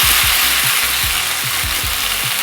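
Disco fish sizzling in hot oil in a pan, a loud continuous crackle and hiss with a low rhythmic clatter underneath, close up and with no talking.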